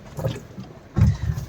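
A boat moving on Chilika Lake with a low, rumbling motor drone that swells louder in the second half, mixed with wind and water noise.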